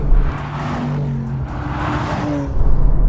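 A Porsche GTS drives on a race track in Italy, its engine a loud steady drone with rising pitch as it accelerates, heard from close by.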